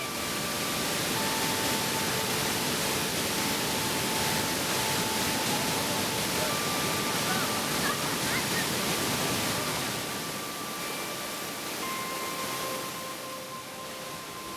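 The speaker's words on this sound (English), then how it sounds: "the pale foaming water cascades through forest and from rock pool to rock pool" Tad Sae waterfall near Luang Prabang, its pale foaming water cascading through forest from rock pool to rock pool, gives a steady, loud broadband rush that eases slightly toward the end, with faint tonal sounds above the roar.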